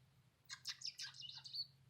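Pet parakeets chirp and tweet in a bright, busy burst of overlapping calls, close by and fairly quiet, over a steady low hum.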